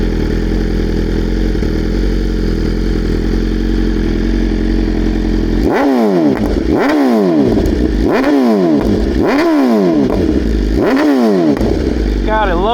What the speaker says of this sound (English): I mean, this bike sounds so good.